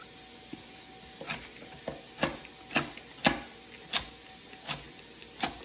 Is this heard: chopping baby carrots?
yes